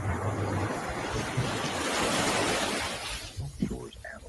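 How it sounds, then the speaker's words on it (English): Strong wind gusts whip and roar in a loud, sustained rush that swells and eases, with a low rumble of buffeting through most of the stretch before it briefly drops away near the end, where faint talk comes through. "Strong winds and gusts."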